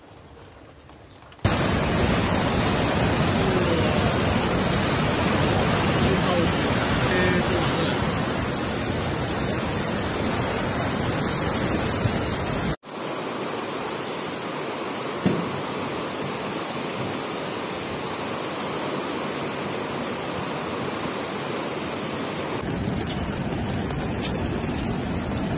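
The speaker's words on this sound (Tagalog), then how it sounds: "grabe yung baha na dito oh" Floodwater rushes through a neighbourhood after two days of rain, a loud, steady broadband roar that holds nearly unbroken, with a brief cut partway through and no clear talk.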